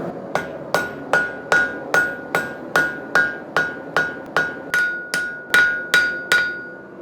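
Hammer blows with the flat face on hot steel while forging a knife: about fifteen evenly spaced, ringing metallic strikes, close and loud, with no talk.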